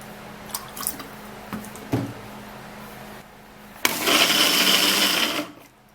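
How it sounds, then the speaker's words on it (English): A kitchen blender whirs loudly as it purees carrot with a little water, the motor starting abruptly after a few knocks and clatters of setting up, then running steadily for a couple of seconds before cutting off. "Transfer that into a blender, put in a little bit of water"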